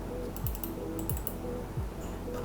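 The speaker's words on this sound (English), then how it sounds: "The mouse, unfortunately, is quite loud." Sharp clicks from a Rapoo X1800S wireless mouse button repeat at a steady pace, about one every half second, close up and fairly loud with no talking.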